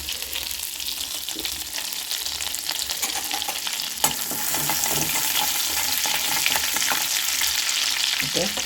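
Cumin, star anise and cinnamon temper in hot oil, giving a steady sizzling crackle close by with light stirring scrapes and a single sharp tap midway.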